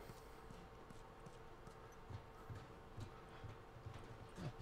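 Hooves clip-clop at an unhurried walking pace in the video game The Last of Us, soft and fairly distant, with a faint background hum and no talking.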